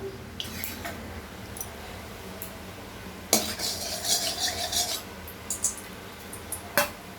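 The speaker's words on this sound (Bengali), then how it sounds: "কাঁচা লঙ্কা, সর্ষে আর কারি পাতা সব একসঙ্গে দিয়ে একটু ভাজা ভাজা করে নিতে হবে" Green chilli, mustard seeds and curry leaves hit hot mustard oil in a kadai, giving a sudden crackling burst of spitting and popping, with scattered clinks and stirring scrapes before and after.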